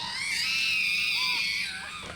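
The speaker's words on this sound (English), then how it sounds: "listen to this fucking scream again" A video game character lets out a sustained, shrill, wavering scream. It is loud and continuous, and no one talks over it.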